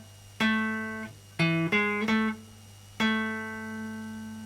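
A short bass phrase from a song's bassline: one sustained low note, a quick cluster of three plucked notes, then a final ringing note that fades out.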